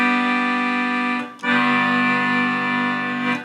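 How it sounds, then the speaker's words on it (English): Accordion playing a G bass note and chord, sustained reedy tones with a rich stack of harmonics, loud and close, two long held notes separated by a brief break for the bellows. "The G bass and chord, you have to raise your fingers up 1 set of buttons"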